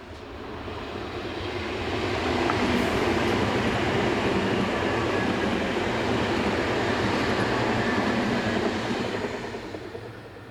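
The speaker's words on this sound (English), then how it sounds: "411019 heads away from the former border station on a train for München." Tilting ICE train 411019 pulls away from a former border station bound for München, a steady broad rumble of wheels and running gear that swells over the first seconds, holds loud and close, then eases slightly.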